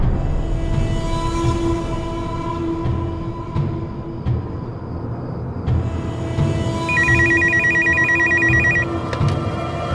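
Telephone ringing over and over in a household scene from an Indian crime TV drama, with clear, regular ring bursts over a low background hum and no talking.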